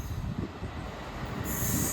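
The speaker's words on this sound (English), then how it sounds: "passing through now is the freight train from Lossiemouth to Tynecole" A freight train from Lossiemouth to Tyne Coal Yard passing on the Northumberland line, a steady loud rumble of wagons with rail noise and a rising high squeal near the end, no talk.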